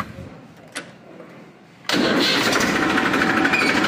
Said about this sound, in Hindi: अब जैसे ट्रैक्टर स्टार्ट करते हैं,